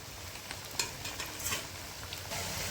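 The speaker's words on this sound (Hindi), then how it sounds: "तो इन्हें हम पलट पलट के क्रिस्पी होने तक फ्राई कर लेते हैं।" Potato pieces for crispy chilli potato fry in a pan with a steady, close, crackling sizzle, no voices over it.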